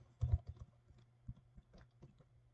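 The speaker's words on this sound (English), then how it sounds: "type in our username" A computer keyboard being typed on to enter a username for an online account sign-up, giving a short, quiet run of sparse, uneven key clicks up close.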